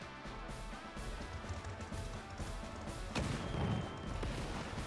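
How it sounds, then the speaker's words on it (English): Tank attacking a cruiser in Advance Wars, a retro strategy game: continuous crackling gunfire with a sharper burst and booming hit near the end, quiet overall. "Let's attack his cruiser with our tank."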